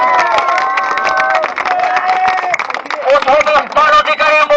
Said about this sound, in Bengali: সবাই মোবারক হোসেন হাততালি হোক।